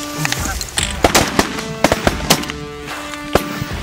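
Shotguns firing during a goose hunt, several sharp reports popping irregularly at moderate distance, with voices talking faintly among the shots.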